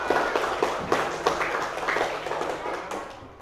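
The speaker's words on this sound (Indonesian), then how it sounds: "tepuk semangat dulu ya" A group of elementary school pupils claps a rhythmic spirit chant in a classroom, with sharp claps in quick patterned bursts close by and loud, while faint voices mix in underneath.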